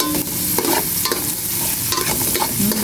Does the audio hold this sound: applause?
no